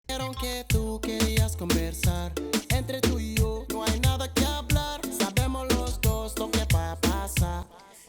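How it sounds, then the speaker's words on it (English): A deep, clean bass line playing a rhythmic groove of short plucked notes alongside other instruments, with no audible effects on the bass tone. "It's definitely like a very low tone bass."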